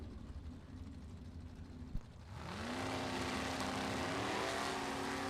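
A drag race with a '57 Chevy wagon and a '94 Mustang, an engine roar building after a brief click and staying loud and steady, with rising engine pitch as the cars launch and pull away.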